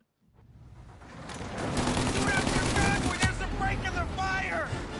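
Gunfire in the video game Mafia Definitive Edition, a dense, continuous fusillade of shots that builds from quiet to loud and stays busy, with no talk over it.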